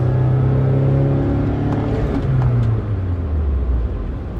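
A car engine revs high, then its pitch slides down steadily as the vehicle slows under engine braking, loud and close, with no talking.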